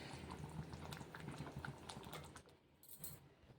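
Village-style fish curry simmers in a pot with soft, faint, continuous bubbling and small popping ticks that thin out near the end.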